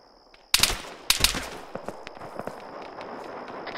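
Gunfire from soldiers in the ArmA 3 video game: two loud close shots or short bursts, then scattered fainter distant reports and cracks over a steady high electronic hum.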